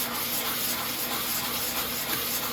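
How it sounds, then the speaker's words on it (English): Steady, close abrasive rasp of sanding along the edges of a body part from a Venom 250cc Villain chopper motorcycle, continuous with no pauses and no talking. "I'm gonna want to sand a bit"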